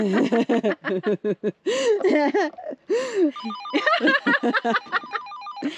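Off-grid in a remote home, a two-way radio sends a call tone of rapidly stepping electronic beeps that plays over close talking and laughter in the second half.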